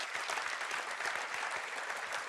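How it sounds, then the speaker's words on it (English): A conference audience gives a warm round of applause after an inspirational talk, even, dense clapping that stays steady and moderately distant. "please give Michael Werz a warm round of applause"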